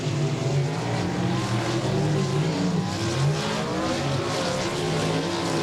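Race cars roar through the turns on the final lap at Golden Triangle Raceway Park, a loud, steady, overlapping engine drone that stays dense and unbroken without letting up.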